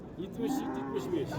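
Cow at a cattle market giving a single drawn-out moo, fairly close and moderately loud, over a low background murmur of the market.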